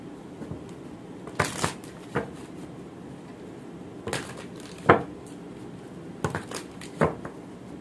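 Tarot cards are shuffled with a handful of separate crisp riffles and slaps spread across the stretch. The sounds are close and fairly quiet, with no talking.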